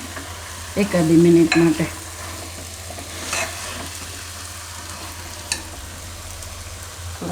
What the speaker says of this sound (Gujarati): થોડીક વાર આ રીતે મસાલામાં દાળ ને દૂધી બેયને ફેરવી લેવાની